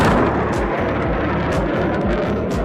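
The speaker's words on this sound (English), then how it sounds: "The intense explosion of sound reached the ground" A supersonic jet's sonic boom, a deep rumbling roar with repeated low booming pulses, loud and sustained like an explosive blast rolling overhead.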